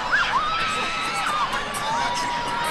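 Spectators cheer after a goal in a football match, a loud burst of shouting and high excited whoops and screams from a nearby crowd, sustained throughout.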